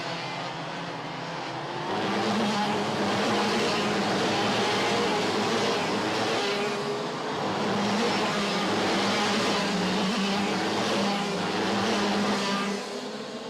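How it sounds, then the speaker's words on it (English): OK class racing karts, including Vortex-powered Tony karts, run a prefinal at the WSK Champions Cup at South Garda Karting. Their high-revving two-stroke engines make a loud, continuous buzzing drone that swells and fades as they pass. "Maximilian Popov, the third Koski Motorsport Vortex-powered Tony kart, inside the top 6"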